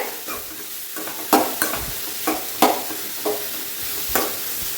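Sliced onions sizzle in a hot pan while a spoon scrapes and stirs them in a steady rhythm of sharp clacks, heard close with no talking.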